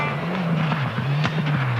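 A rally car brakes hard into the first gravel section of a special stage, its close, loud engine note dipping and wavering while faint crunching and skittering texture sits around it.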